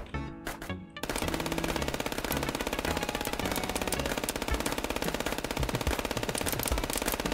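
Rapid automatic gunfire from an FPS Chess video game, a dense, steady stream of shots running loud and continuous for most of the stretch after a brief opening burst.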